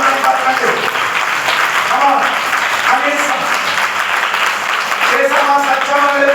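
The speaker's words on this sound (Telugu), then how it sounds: "అర్థమైన గట్టిగా చప్పట్లు కొట్టి ప్రభువుని పలకండి" Sustained clapping from a church congregation during a Sunday praise service, dense and steady throughout, with a voice talking over it.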